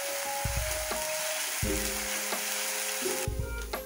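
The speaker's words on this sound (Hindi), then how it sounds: "अच्छे से भूनेंगे इसे" Ground onion and spices frying in a pan for chicken gravy, a steady close sizzle throughout with a few low clunks and scrapes of stirring in between.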